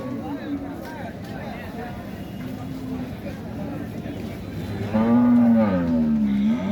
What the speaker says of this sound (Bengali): দেখিয়ে শেষ করা যাবে না এত গরু এই যে দেখুন বেশ বড় বড় গরু